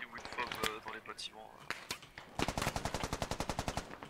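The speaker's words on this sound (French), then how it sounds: "On prend des tirs." Automatic gunfire rings out in a Squad military shooter video game, with scattered shots and then a sustained rapid burst, mixed under players' voices talking over the radio.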